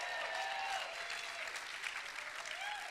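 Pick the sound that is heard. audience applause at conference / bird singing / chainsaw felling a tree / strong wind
audience applause at conference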